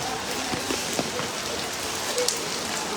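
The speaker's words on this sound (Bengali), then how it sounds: "বৃষ্টি পড়তেছে" Rain falling steadily at an outdoor cattle market, a continuous close patter on surfaces with scattered light knocks and thumps, no clear talking.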